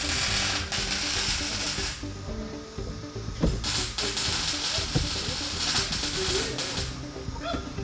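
A rivet nut tool squeezed by its handles to set a threaded insert in a tight spot in a car's fuel system work, heard as close mechanical ratcheting clicks amid steady workshop noise.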